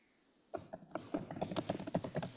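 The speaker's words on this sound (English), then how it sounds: "I can't hear you, but I can hear you typing away." Computer keyboard typing comes through an online call, a quick, uneven run of clicking keystrokes that starts abruptly after a moment of near silence and continues at moderate loudness with no talking.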